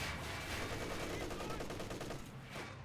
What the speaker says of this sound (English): A lot of MG34s by the OKW players.